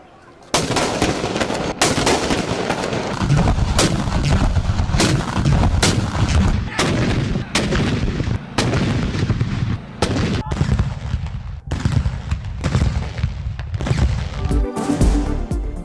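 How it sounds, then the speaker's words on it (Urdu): Cannon gun salute fired at the start of a religious holiday, heard as dense, continuous booming blasts and rumbling reports over loud crowd noise and talk, with a brief drop near the end. "دن کے آغاز پر توپوں کی سلامی"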